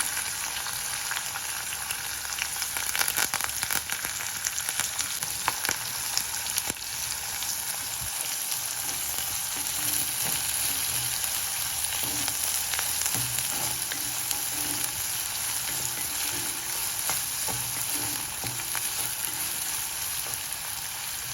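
Onions, garlic and curry leaves fry in a pan with a dense, steady sizzle that runs close and loud throughout, with faint stirring clinks and no talking.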